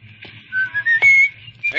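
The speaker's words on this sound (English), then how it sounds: "he wouldn't be whistling." A man whistles a short, bright tune as he walks down a street, rising and falling notes carried over a low background hum, fairly close and alone without talk.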